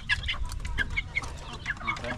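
Chickens cluck in quick, overlapping bursts close by, several birds chattering over a low rumbling background at a farmyard feeding.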